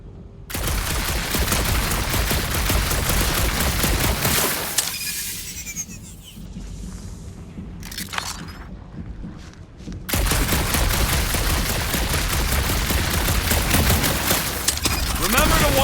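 A rapid, dense stream of gunfire rattles from a blaster in Guardians of the Galaxy, loud and continuous, pausing briefly in the middle for quieter effects before resuming at full intensity.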